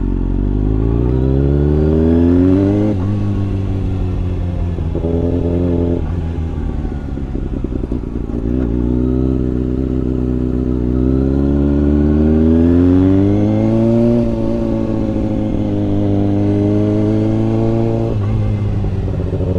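A Kawasaki ZX6R sport bike pulls away on a ride, its engine loud and close, rising and falling through repeated revs and gear changes, with a voice faint underneath.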